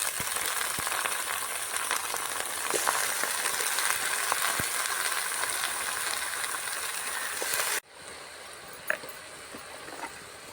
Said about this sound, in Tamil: வாழைப்பூ கொஞ்சம் நல்லா வதங்கிடுச்சு